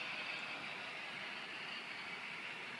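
An HO scale model train runs along a Colorado Joint Line layout, giving a steady, soft rolling hiss and rumble from the small wheels on track, continuous and fairly faint with no talk over it.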